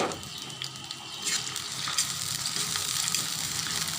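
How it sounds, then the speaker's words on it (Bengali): Green chillies, bay leaves, cardamom and cinnamon fry in hot oil with a loud, continuous close-up sizzle while they are stirred, the hiss swelling slightly midway. "দিয়ে এখন নাড়াচাড়া করব।"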